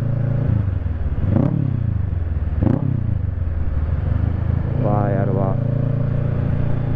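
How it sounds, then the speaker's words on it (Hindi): A Kawasaki Z650 with a 68 PS engine: its exhaust gives two sharp, loud pops over a steady rumbling drone, with a brief rising whine near the end. "और बाइक जो पीछे से पटाखे दे रही है ना,"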